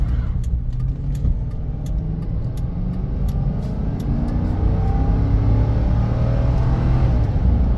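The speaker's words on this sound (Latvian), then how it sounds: "Ieskrējiens no 0 līdz 100." A frame-built sedan accelerates hard from 0 to 100 km/h, its engine note droning loud and steady with rising pitch through the gears, heard from inside the car.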